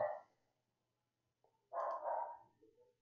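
A dog barks twice from a distance, a short muffled bark followed after a pause by a longer one, with quiet in between.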